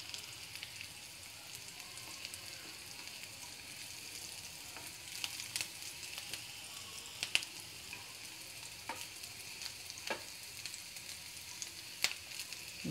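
Smashed potatoes frying in hot oil in a pan, a continuous soft sizzle broken by scattered sharp crackles and pops, fairly quiet and close.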